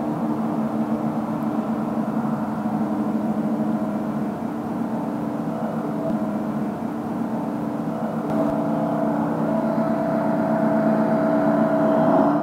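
A diesel vehicle engine at the Wheels at Wanaka show runs loudly and steadily with a deep droning rumble, the pitch rising slightly as it revs toward the end.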